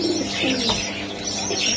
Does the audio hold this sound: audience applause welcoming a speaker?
no